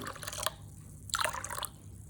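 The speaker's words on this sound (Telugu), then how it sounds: "దాంట్లో వాటర్ వేసి నానపెట్టేస్తాము." Water poured over washed grains and nuts being soaked for mutton haleem, a soft splashing trickle in two short bursts with a pause between, heard close and fairly quiet.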